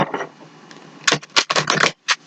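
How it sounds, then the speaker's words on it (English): Crisp bursts of tarot cards riffling and snapping together, several quick shuffles in a row, close and fairly loud, with a short pause between them. "Okay, one more shuffle."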